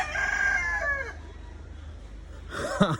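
A rooster crows loudly and close by, one drawn-out call at the start and a shorter second burst near the end, with quiet ambience in between.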